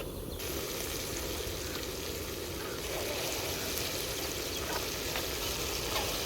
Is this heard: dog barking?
no